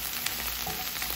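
Lion's mane mushrooms sizzle and fry in a pan as they brown and crisp, a steady faint crackle with no voices.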